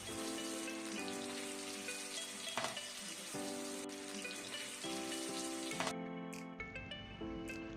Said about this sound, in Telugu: ఇప్పుడు మనం చిన్న ముక్కలుగా కట్ చేసి పెట్టుకున్న మిర్చీలను ఈ విధంగా ఆయిల్లో వేసుకొని వేయించుకోవాలి.